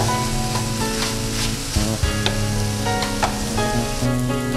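Radish and egg stir-fry for a podimas sizzling steadily in a pan over low heat, a continuous close frying crackle with a few scraping stirs of a spatula and no talking.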